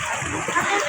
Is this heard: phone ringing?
no